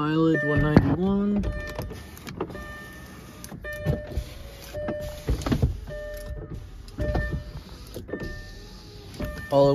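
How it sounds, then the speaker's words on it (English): Power windows on a high-mileage salvage car with a bad motor whir up and down in several separate strained motor runs, close to the microphone, with a person talking between and over them. "All the windows go up and down."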